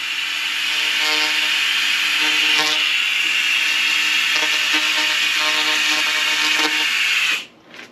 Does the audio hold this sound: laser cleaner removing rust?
yes